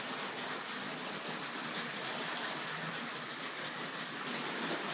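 Tri-ang R.159 double-ended diesel model train running on a model railway track, a steady whirring rumble with a faint rhythmic rail clatter, close and continuous, with no talk.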